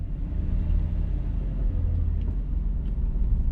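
A 2008 Aston Martin V8 Vantage with a naturally aspirated 4.3-litre V8 on a country drive, heard from inside as a steady, deep rumbling drone with road noise and no talking.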